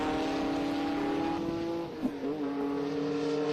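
An air-cooled Porsche race car leading an enduro race passes close on the track, its engine a loud sustained tone that dips sharply and then climbs again, with a brief tire squeal.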